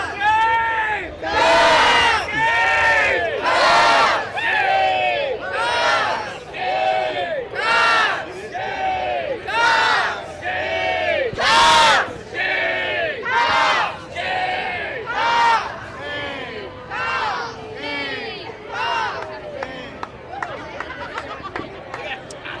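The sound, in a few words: Gamecocks crowd cheer going back and forth in stadium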